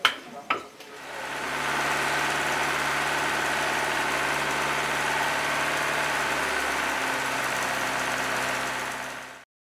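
A fish feed making machine runs with a steady mid-pitched engine drone and vibration, holding constant after a couple of brief knocks at the start and stopping abruptly at the end.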